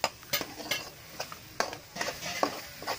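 Ground masala for pomfret fish curry frying in oil and stirred with a utensil, giving irregular scrapes and clinks against the pan over a soft sizzle.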